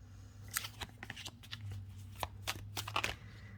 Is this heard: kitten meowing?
no